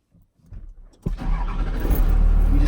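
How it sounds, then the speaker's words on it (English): A car engine starts: after a quiet moment with faint rustling and clicks, the engine turns over sharply and catches, then settles into a loud, steady running rumble. "You just started your first car"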